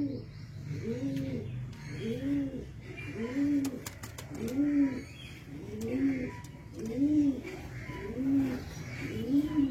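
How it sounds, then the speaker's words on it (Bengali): Pigeon cooing, a steady series of about eight rolling low coos at an even rhythm, close and clear, with faint clicks and rustles behind. "তো চলো তোমাদের পায়রা ছেড়ে দেখে দিই,"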